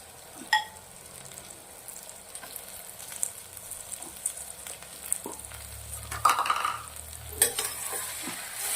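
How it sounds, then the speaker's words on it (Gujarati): Cowpea beans and potato pieces sautéing in oil, a soft steady sizzle broken by scattered utensil scrapes and clinks as the pan is stirred, close and fairly quiet, no talking. "એને બે મિનિટ જેવા તેલના અંદર સંતરાવા દેશું"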